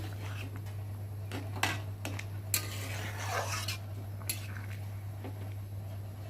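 Fried lentil fritters stirred into simmering gravy in a pot, several distinct spoon clanks and scrapes against metal over a low bubbling background with a steady hum, close and fairly quiet.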